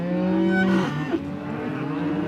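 Cattle being sorted in a pen bellow in a loud, sustained moo that tails off into a second, rougher call, close by with no talking over it.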